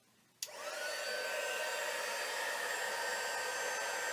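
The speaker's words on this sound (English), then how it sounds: "Alright, let's turn on the dryer here." A hair dryer drying alcohol ink on embossed copper metal tags clicks on, then runs with a steady, loud, close whir and a high whine that holds without pause.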